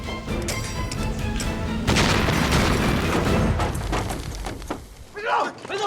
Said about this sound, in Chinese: 手榴弹。